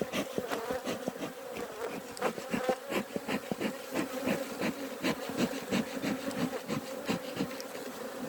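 Dense, continuous buzzing of honeybees swarming around an open, queenless hive in Ireland, steady and close, with scattered scraping and knocking of wooden frames being handled.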